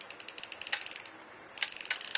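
Quick rattling clicks of a fully wound airsoft high-capacity magazine's ratchet skipping, two short bursts separated by a brief pause, close and crisp.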